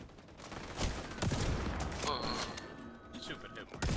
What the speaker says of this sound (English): Isn't that a 50 caliber rifle?